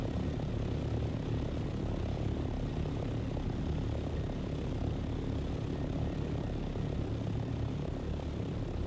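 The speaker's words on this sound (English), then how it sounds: "Is that a copter as well over there?" Helicopter flying in the Chrono Odyssey video game, a steady low rotor and engine drone that stays fairly faint and distant and holds constant for the whole stretch with no voices.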